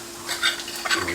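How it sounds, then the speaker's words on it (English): A hash brown flipped in a frying pan, a quick scrape and clink of the utensil followed by a soft sizzle, brief and close. "Flip the hash brown over."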